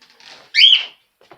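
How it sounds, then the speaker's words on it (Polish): A toy parrot bought from Pepko gives a short electronic chirp, one loud bright whistle-like call with a softer warble before it and a faint click after. "wam pokażę, a jak się odzywają moje papugi"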